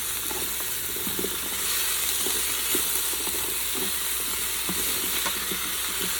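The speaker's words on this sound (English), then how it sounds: "we're gonna let this saute for about 3 to 5 minutes until the veggies are a little bit soft" Chopped potatoes and carrots sautéing in a pan for a Japanese-style pork curry, a loud, steady sizzle and hiss with faint stirring scrapes and clicks underneath, close up and without voices.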